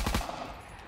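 Rapid gunfire from a shooter video game, two or three quick loud bursts at the start that fade into a lingering tail, with no talk.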